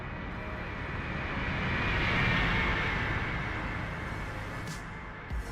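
A retro flight-sim aircraft from Legendary Pilots drones steadily in free flight, its engine a continuous broadband roar that swells slightly in the middle and then eases off.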